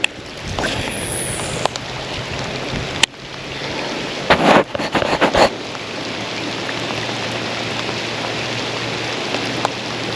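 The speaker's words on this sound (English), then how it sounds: "Rain hasn't relented." Heavy rain pours steadily onto open water and a bass fishing boat, a dense continuous hiss with a few sharper knocks and splashes partway through.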